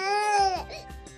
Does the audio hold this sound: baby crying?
yes